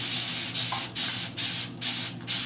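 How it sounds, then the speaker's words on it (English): A spray bottle mists water onto a section of hair in a home morning routine, giving about five short, close, hissing bursts in a steady rhythm with brief gaps between them. "I'm just gonna go ahead and start spraying this section"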